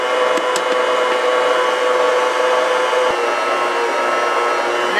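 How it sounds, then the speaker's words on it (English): A stand mixer kneads sweet potato roll dough with pumpkin pie spice, a loud, steady motor whir with a constant tonal hum and little variation, plus a couple of faint clicks near the start; no one speaks. "I'm going to turn my mixer up to speed 2"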